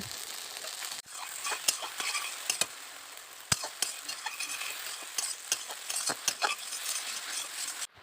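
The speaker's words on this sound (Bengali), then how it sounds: "সেই ভিজিয়ে রাখা সাবুদানাগুলো তার সাথে পরিমাণ মতো একটু লবণ দিয়ে ভালো করে নেড়ে চেড়ে নিচ্ছি" Soaked sago pearls with salt being stirred and fried in a pan, a steady close sizzle with repeated scraping clicks of the spoon against the pan, no talk.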